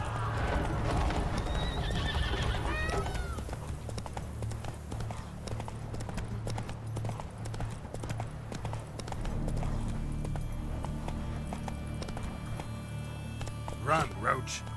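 Horse galloping in The Witcher 3: rapid rhythmic hoofbeats under a whinny, with game music, ambient noise and a voice speaking over them.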